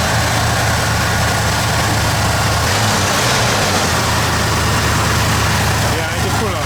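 An old car engine idles slightly high in a steady, continuous low rumble, close and fairly loud throughout.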